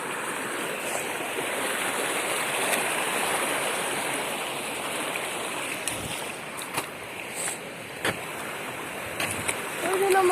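A village stream rushes steadily in a close, continuous wash of water noise, with a few faint clicks and knocks near the end.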